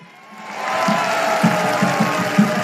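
A political rally crowd applauds for pastor Silas Malafaia, a steady wash of clapping and cheering swelling from a quiet start and holding at moderate loudness, with a rhythmic low thumping running underneath.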